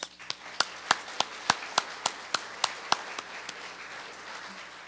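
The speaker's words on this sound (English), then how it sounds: "Let's give all our hosts on the farm tour and to this morning's tour a round of applause." Banquet crowd at a 100-year celebration clapping for farm tour hosts: a steady, evenly spaced run of about sixteen sharp claps, fairly close and moderately loud over a faint room hum.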